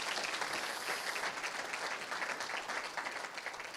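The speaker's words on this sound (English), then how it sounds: "A round of applause for the programming committee" Conference audience applauding the programming committee in a large hall, a dense, continuous wash of clapping heard from a distance and fairly faint, holding steady for several seconds.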